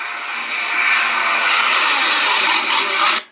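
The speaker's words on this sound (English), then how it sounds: "That is a Renault going down the back straight, down into turn 1, sweeping through." A Renault Formula 1 car at pre-season testing roars past down a back straight into turn 1, a loud sustained high-pitched engine wail with no talk that holds steady for about three seconds before cutting off abruptly.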